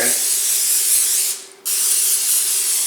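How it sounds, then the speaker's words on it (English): Loud close hiss of cooking spray coating a hot four-compartment waffle iron, a continuous burst that briefly stops for a moment and then resumes. "You have to grease the iron"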